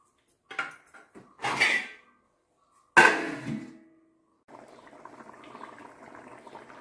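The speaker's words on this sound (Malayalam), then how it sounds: "ഇത് കണ്ട തിളച്ചപ്പോഴത്തേക്കും ഇത് നല്ല ചാറ് വന്നിട്ടുണ്ട് ചിക്കൻ കറി" Chicken curry boils in a covered pot: a few clattering knocks of handling the pot, then a steady, fairly quiet bubbling and simmering that runs alone to the end.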